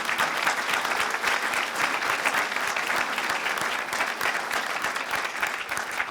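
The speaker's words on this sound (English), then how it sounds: "So give yourselves a clap as well." A live comedy audience clapping, dense and even applause from a full room that holds at a steady level throughout without fading.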